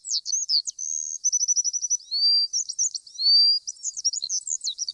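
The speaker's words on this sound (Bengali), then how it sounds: "একদম ভোরবেলায় পাখির ডাকে ঘুম ভাঙলো।" Cartoon-style birdsong at dawn: rapid high chirps, trills and whistled sweeps in a continuous busy stream, clear and close with nothing else behind them.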